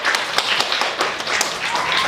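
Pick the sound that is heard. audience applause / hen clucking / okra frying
audience applause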